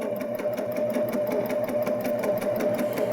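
A Baby Lock Jazz II sewing machine stitches a buttonhole in reverse, giving a steady, rapid mechanical hum with fast needle ticking. It runs close and unbroken throughout, with no voices.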